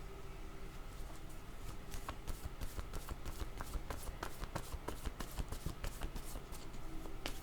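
Tarot cards being shuffled by hand, a steady run of soft riffling and flicking close up, with no talking.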